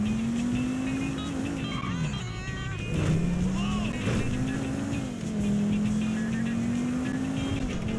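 A car in GTA 5 drives along with a loud, continuous engine drone that rises and falls as it shifts gears. Faint background sounds sit under the engine.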